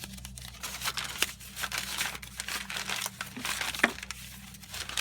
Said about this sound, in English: I created a long length of paper, and I continued to crumple it and twist it